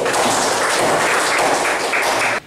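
Classmates in a hadith lesson applaud student Yusuf, a steady, loud burst of many hands clapping together that fills the room and stops abruptly at the end.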